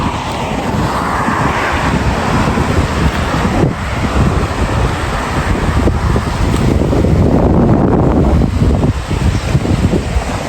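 Strong outdoor wind buffets the microphone in loud, continuous gusts that swell and ease over the whole stretch, with no voices.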